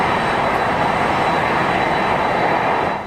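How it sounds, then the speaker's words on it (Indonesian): Jet engines of Air Force One, the US presidential airplane, producing a loud, continuous close-up roar with a broad rushing hiss that holds steady before easing off at the very end. "Ini adalah Air Force One,"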